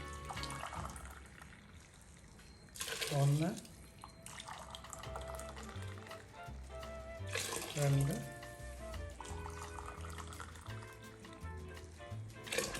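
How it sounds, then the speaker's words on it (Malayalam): Hot boiled water is poured into a cooker holding rice for palak rice, in two separate gushing pours a few seconds apart, close and fairly loud, with a person talking throughout. "തിളപ്പിച്ച വെള്ളം ഒഴിക്കാം."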